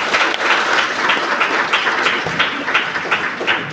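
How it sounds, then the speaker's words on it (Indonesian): A church congregation claps together for the youth group in a loud, dense burst of applause that stays close and steady throughout, with only faint voices underneath. "kita tepuk tangan dulu kepada remaja dan naposom belum"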